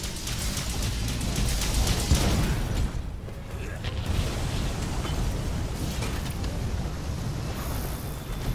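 Booming, rumbling blasts from lava creatures in a Raging Brachydios hunt in Monster Hunter World: Iceborne, a dense continuous low roar with bursts that swell and fade over game noise.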